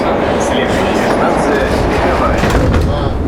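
Metro railcar 68-46, built in August 1977, rolls out of the station with a steady loud rumble and faint rail clatter, a dense continuous roar throughout.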